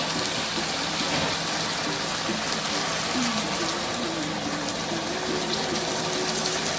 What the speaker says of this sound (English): I'm going to take some liquid from the provisions pot